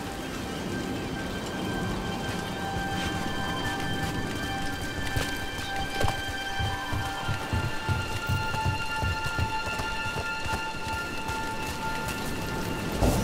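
Steady rainfall in Dragon Age: The Veilguard, a constant hiss of drops on surfaces with faint dull thuds and soft tonal music beneath, no voices.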